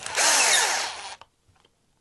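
A power drill whines loudly for about a second while driving in, then cuts off and leaves faint handling clicks.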